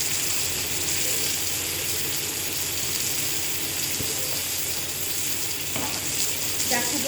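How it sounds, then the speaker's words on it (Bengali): Pointed gourd fries in a pan with a steady, loud, close sizzle that runs unbroken throughout, with a few faint scrapes near the end. "এই আরেকটু আমি ভেজে নেব"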